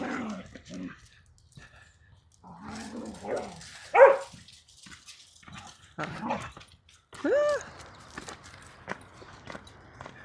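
Dogs bark in short, scattered bursts at moderate distance on a farm in the morning, with a few louder barks standing out over a quiet outdoor background.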